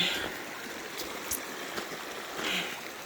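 Cold stream water gurgles quietly around a hiker wading through it on a canyon hike, a faint steady rush broken by a few soft splashes.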